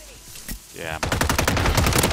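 Gunfire in an online battle royale shooter game as a player is shot out of the air while landing, a dense burst of rapid machine-gun fire starting sharply and continuing steadily loud, preceded by brief faint shots.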